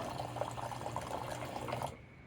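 Hot water running in a steady stream from the group head of a Gaggia Anima espresso machine, a close, even hiss and trickle that cuts off near the end.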